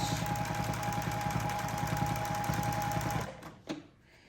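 A sewing machine stitching free motion quilting runs in a steady, rapid, loud mechanical chatter for about three seconds, then stops abruptly, followed by a brief clunk and quiet.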